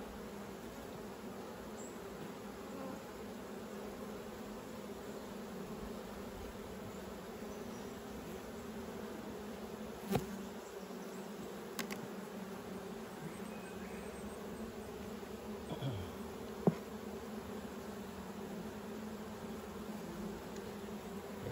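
Honey bees drone in an open hive affected by chalkbrood at Nana Glen in April, a faint, steady, close buzzing with a few tiny clicks and no voices.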